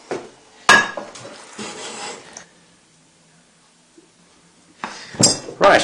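A spoon stirs a dampened food mix in a dish, giving bursts of clinking and scraping against the bowl. A quiet pause falls in the middle before a final round of sharp clinks.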